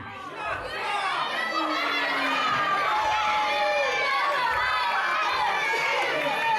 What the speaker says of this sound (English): I still haven't said a word and you guys are still booing me.